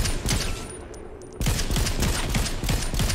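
Rapid bursts of automatic gunfire in Fortnite ring out loud and close, a dense rattling volley that pauses briefly before resuming in a quick, steady string of shots.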